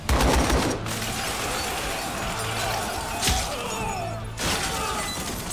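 Magic spells fire in an anime battle from Youjo Senki, a dense, loud barrage of crackling, shattering blasts like massed gunfire that runs almost continuously, with a sharp burst near the start and another surge later.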